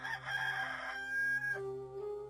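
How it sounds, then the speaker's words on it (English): A rooster crows once close by, a long loud cock-a-doodle-doo that rises, holds and then drops to a lower trailing note, alone with no talk. "and a rooster crowed"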